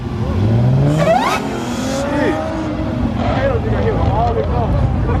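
A Dodge Demon 170 engine revving in traffic alongside other cars, loud rising and falling engine pitch close by, with voices talking over it.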